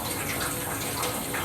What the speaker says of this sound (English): Now I will turn on the water and adjust the pressure of it to avoid splashing water